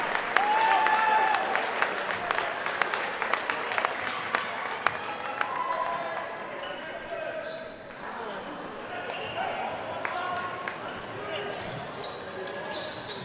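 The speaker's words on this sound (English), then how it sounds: "Lets his starters get a round of their own applause." The crowd at a high school boys basketball championship game applauds the starters as they leave the floor, with a steady wash of clapping and a few bouncing balls beneath it while an announcer talks over the top.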